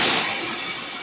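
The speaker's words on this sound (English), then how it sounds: "I'm gonna move this train." A train being moved gives off a loud, steady broadband hiss like releasing steam or air, strongest at the start and holding evenly for about a second, with no voices.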